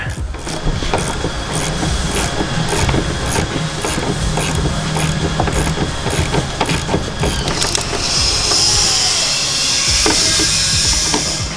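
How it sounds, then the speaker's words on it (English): A wrench works loose the long studs on a rear strut mount of a Grand Prix during a coilover install, with steady rhythmic metallic ratcheting clicks over a constant loud background hum, close by. "So you gotta get a wrench in there and get them off the rest of the way."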